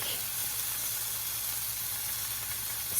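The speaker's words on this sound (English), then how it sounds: "sear it all around the bacon right now" Bacon-wrapped rabbit searing in a pan gives a steady, close sizzle and hiss that holds evenly throughout, with no talking.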